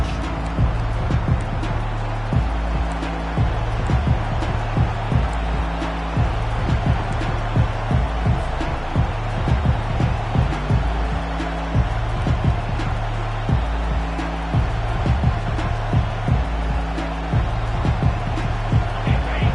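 Football video game stadium crowd roars continuously in the background, a broad sustained wash of cheering with a repeating rhythmic chant or drum pattern pulsing underneath.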